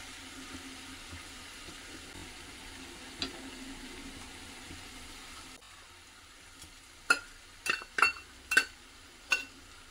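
Fried dry fruits stirred into a warm aliv (halim) ladoo mixture in a pan, a soft sizzling hiss at first, then a run of sharp spoon clinks and scrapes against the pan, close and fairly quiet.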